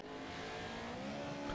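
Lucas Oil Pro 4 off-road trucks race in iRacing at Wild West Motorsports Park, with a continuous loud engine drone and revving that holds steady with no break.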